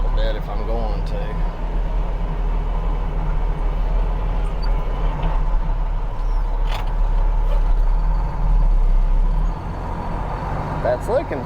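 A truck engine rumbles steadily as it drives to turn around and back up toward a trailer, with someone talking over the low drone throughout.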